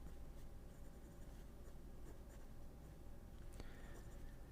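An Asvine V126 fountain pen with a steel number 6 medium nib writes across paper, a faint, soft scratching of strokes that runs continuously and very quietly at close range.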